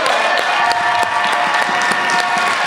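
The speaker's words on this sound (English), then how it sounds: "Please just give him a round of applause." Applause from a congregation at a baptism, a dense, bright patter of many hands clapping steadily and loudly for nearly three seconds, with no talk over it.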